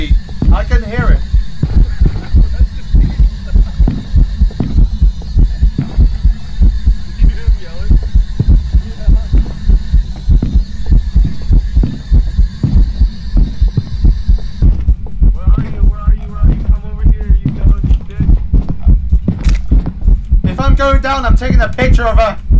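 A pounding heartbeat in the Phasmophobia horror game, steady low throbbing pulses that run loud and continuous under a constant hum, joined near the end by faint game noises.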